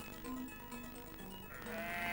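Sheep bleat on forest grazing land, a couple of wavering, drawn-out calls at moderate distance, faint and alone over a soft outdoor background.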